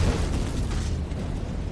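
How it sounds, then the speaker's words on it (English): A volcanic eruption set off as seawater reaches molten rock, rendered as a sustained deep roaring rumble that swells at the start and then holds steady, with no voices. "This caused an absolutely vast explosion, creating a 30-mile-high fountain of magma, dust, and ash."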